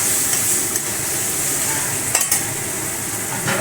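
Onion, ginger, garlic and spice paste sautéing in a pan for Bengali ghugni, a steady close sizzle with a few brief clinks of a utensil stirring against the pan.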